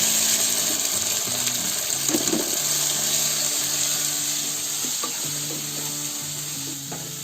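Tomato and spices stirred in a hot pan for methi bombil bhaji, a steady close sizzle with scraping spoon strokes and a few clinks running throughout, no voices.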